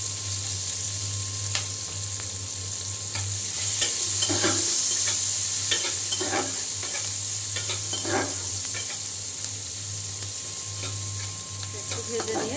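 Chopped onion and green chili frying in oil left over from frying eggplant, a steady sizzle with stirring scrapes and spoon knocks over a constant low hum, no one speaking.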